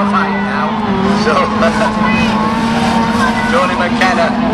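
Class 2 autograss race cars roar around a dirt track at the 2013 nationals, engines revving and droning close by throughout, under continuous excited commentary.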